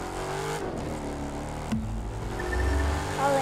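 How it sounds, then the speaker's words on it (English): Car engine revving in the racing video game The Crew 2, a meaty, full-throated drone that swells and drops with a sharp shift partway through, rising again loudly toward the end with no talking. "I like the sound of this car"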